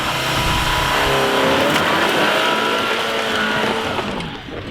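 A VW Alltrack rally car drives nearby with steady engine roar and some tire noise, continuous and fairly loud throughout with no talking.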